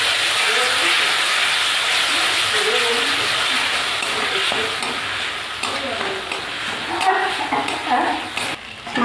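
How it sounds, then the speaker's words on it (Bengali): Bengali spice paste with salt, turmeric and a splash of water sizzles and hisses in a pan for a rohu fish kalia, with stirring scrapes near the end, close and moderately loud. "লবণ দিয়ে দেবো, হলুদ দিয়ে দেবো। অল্প একটু জল দিয়ে মশলাটা কষিয়ে নেব।"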